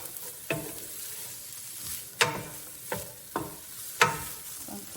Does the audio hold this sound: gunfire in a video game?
no